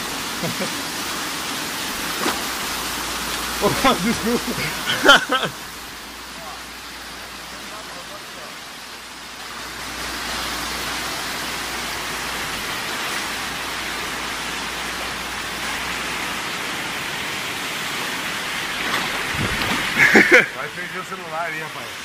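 Steady roaring rush of a waterfall in Brazil fills the whole stretch, with brief bursts of voices and movement near the start and end.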